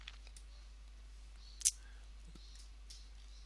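A computer mouse button clicks once, a short, sharp, close click in an otherwise quiet room with faint low hum.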